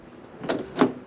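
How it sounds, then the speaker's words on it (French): A power window on a 2006 Peugeot 307 1.6 16v runs in two short, close whirring bursts with a brief pause between them, and the glass stops before fully lowering. "On a la vitre qui ne descend pas totalement puisque le dessin s'arrête"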